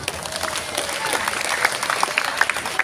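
Audience applause at a Ramadan religious gathering, a steady wash of many hands clapping at moderate level with scattered sharper claps standing out.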